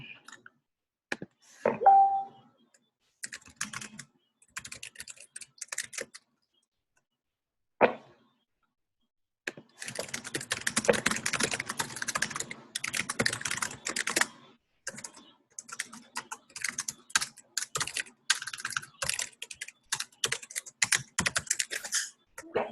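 Someone types on a computer keyboard in close, quiet bursts of rapid key clicks separated by pauses, with the tapping growing denser and more continuous in the later stretch.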